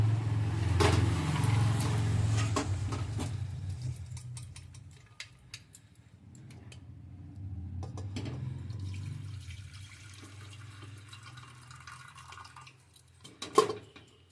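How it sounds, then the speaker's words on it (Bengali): Water from boiled young jackfruit is poured off into a sink, a soft steady splashing stream that thins out, then a few drips and a sharp clatter near the end. "এবার এই জলটাকে ফেলে দেবো"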